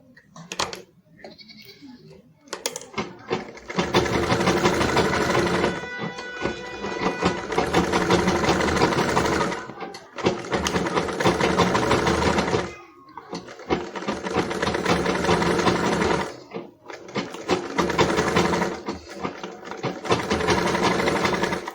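A sewing machine stitches a straight half-inch seam in fabric for an iro and buba Yoruba outfit, running in several long steady bursts with short pauses between them.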